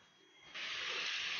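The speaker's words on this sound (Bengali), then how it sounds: "এর মধ্যে আমি পনিরটাকে ভেজে নেব।" Paneer hitting hot white oil in a wok gives a sudden sharp sizzle that jumps up from a quiet background and holds as a steady, bright frying hiss.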